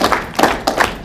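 Group of people at a learning event in Ghana clapping on cue, a few sharp claps in quick succession, fairly close and loud with no talking.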